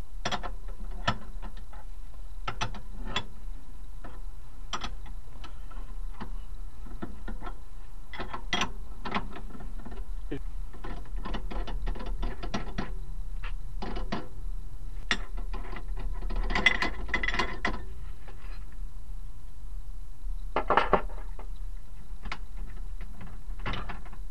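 A ratchet wrench works the bolts of a front shock absorber on a Seat, Audi, VW or Skoda car: repeated sharp clicking bursts of pawl ticks, close and distinct, spread across the stretch with brief pauses and low background hum.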